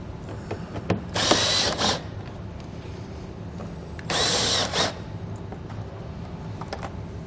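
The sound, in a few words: removing 7mm and 10mm bolts under a Chevrolet Captiva fascia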